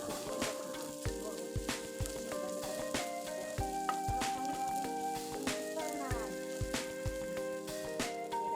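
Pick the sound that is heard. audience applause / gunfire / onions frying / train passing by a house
onions frying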